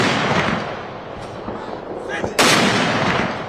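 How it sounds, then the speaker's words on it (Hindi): Artillery guns boom during a 17-gun salute at General Rawat's funeral, with broad rumbling blasts and one sharp loud report near the end, heard over crowd noise and talking. "17 तोपों की सलामी के साथ जनरल को आखिरी विदाई दी गई।"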